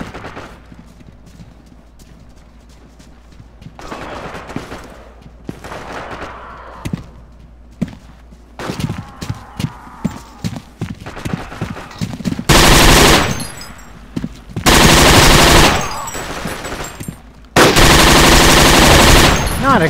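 Bursts of gunfire from a World War II shooter game, Forgotten Hope 2 on the Mount Olympus map. Scattered single shots and thuds come first, then loud, dense automatic fire in long sustained bursts toward the end.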